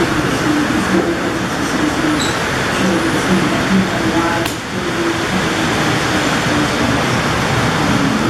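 A model train runs on a display layout of Southeast Michigan interurban operations, a steady rolling rumble with faint wheel squeal and tonal hum, fairly loud and continuous throughout.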